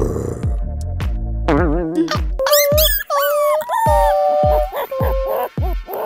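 In a Telugu comedy web series, a man imitates a dog, loud and close, with barks that turn into drawn-out whining yips and howls.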